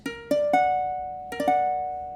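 An augmented chord for ear training, its notes played in a quick upward spread twice on a piano-like instrument, each note sustaining and slowly fading; close, moderate level, no talking.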